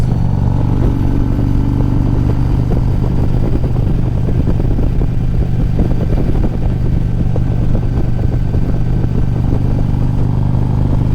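A Harley-Davidson Ultra Classic motorcycle engine idles loud and close with a deep, steady throb and a continuous mechanical rattle and clatter, running without a break and with no talking.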